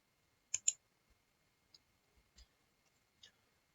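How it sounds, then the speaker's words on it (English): Computer keyboard keys are pressed while working in Fusion 360: a quick double click, then a few scattered single taps, close and crisp against near silence. "Select this one also and press X on your keyboard."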